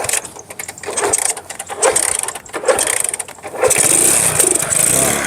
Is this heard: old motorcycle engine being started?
yes